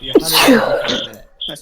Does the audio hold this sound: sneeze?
yes